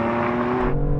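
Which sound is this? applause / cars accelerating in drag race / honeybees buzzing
cars accelerating in drag race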